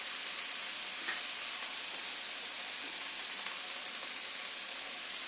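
Ginger paste fries in oil while a spatula stirs it, a faint, even hiss with a few soft scraping ticks.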